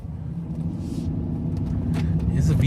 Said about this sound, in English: it's a V12. This thing, it gets up there. Slow takeoff.